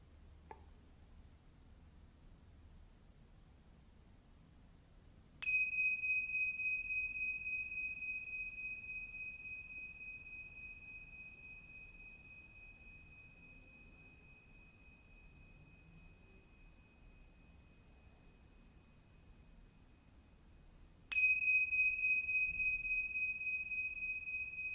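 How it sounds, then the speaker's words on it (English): In a quiet meditation setting, Tingsha bells are struck twice, far apart. Each strike gives a bright, clear ring that sustains and slowly fades into near silence. "I will ring the Tingsha bells 3 times."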